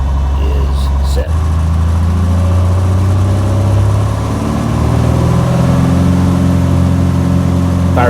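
An aircraft engine at takeoff power during an instrument-conditions takeoff roll makes a loud, steady low drone that fills the clip, its tone climbing and thickening in the second half as the roll continues.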